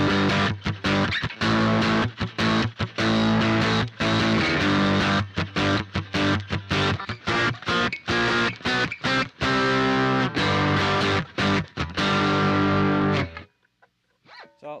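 Loud electric guitar through a diode-modded Boss DS-1 distortion pedal, distortion at 2, chugs in choppy, rhythmic bursts with brief gaps, playing steadily for about thirteen seconds before cutting off into near silence.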